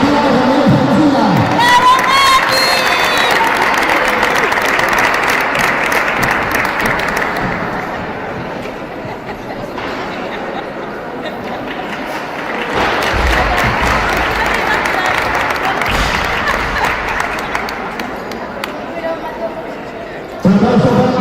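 Sustained crowd applause with cheers and whoops at a weightlifting trophy ceremony, loud and continuous, easing slightly midway before swelling again, with voices mixed in.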